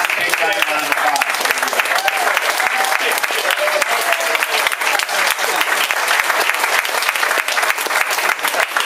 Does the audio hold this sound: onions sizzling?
no